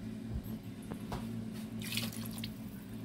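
Water from a glass pours into a pot of chicken and potato shorba gravy, giving a steady liquid splash and trickle under a low background hum, fairly close and moderately quiet.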